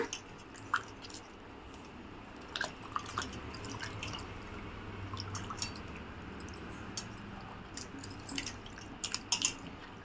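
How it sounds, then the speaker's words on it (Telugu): Washed bitter gourds drain off water: faint, scattered drips and soft wet taps fall irregularly in a quiet kitchen, with no talking. "వాటర్ అంతా తీసేసి పక్కన పెట్టుకుంటున్నా"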